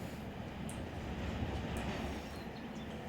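Freight train in the Run8 Train Simulator video game rolling past, a steady low rumble of wheels on rail with faint high squeals, heard alone at a quiet level.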